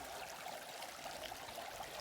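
Cold river water streaming through Santa Elena Canyon in Big Bend, a continuous soft rushing and trickling close by, faint and steady with no talk.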